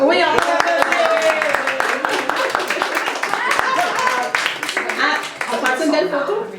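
Guests at a gallery vernissage at Galerie mp tresart applaud with sharp, rapid hand claps that run steadily throughout, close by and loud, while voices talk over the clapping.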